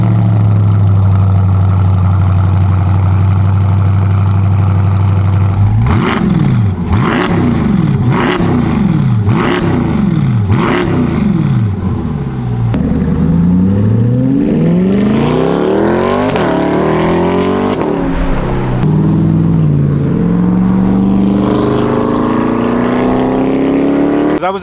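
A 2024 Corvette E-Ray Stingray V8 with aftermarket exhaust idles with a deep steady rumble, then revs sharply several times in quick rising blips before pulling away in a long loud accelerating roar with gear changes, close and alone.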